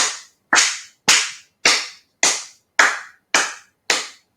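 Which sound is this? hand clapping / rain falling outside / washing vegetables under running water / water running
hand clapping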